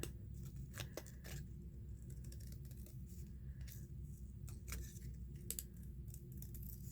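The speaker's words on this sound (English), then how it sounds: "with these little shears that I'm using to cut this" Small shears snipping paper, close and crisp, with a string of separate cuts over a low steady background hum.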